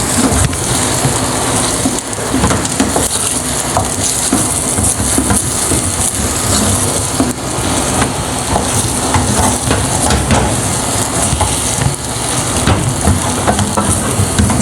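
Semolina is stirred and roasted in sugar for makhandi halwa, giving a steady, loud sizzle and frying hiss with scraping stir strokes throughout and no talk.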